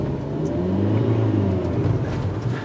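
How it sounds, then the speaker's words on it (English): A 2013 Toyota Prius C hybrid hatchback's engine starts while the car is moving, making a steady mid-pitched hum and whir over road rumble, heard from inside the cabin with no talking. "you can hear the engine kick in there"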